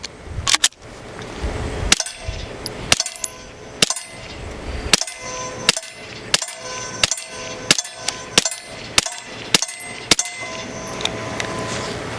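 BCA Grizzly 101 9mm pistol fired with a suppressor and Glock magazine, about a dozen sharp, muffled cracks at a steady pace of roughly one shot per second, each with a short metallic action clack.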